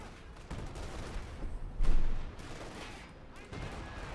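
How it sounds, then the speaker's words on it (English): Bursts of MG42 machine gun fire in the Company of Heroes 2 strategy game, rattling under battle noise and a louder blast around the middle, no voices. "the MB42 continues to rattle down death in their general direction"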